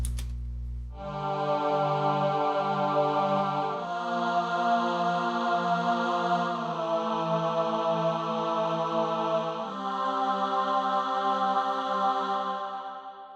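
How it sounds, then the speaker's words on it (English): A soloed synthetic choir layer for a Dragon Ball Z recap remix sustains rich stacked chords, moving through four held harmonies in a smooth, loud and steady progression with nothing else beneath it. "I added a little extra choir on top of the recap"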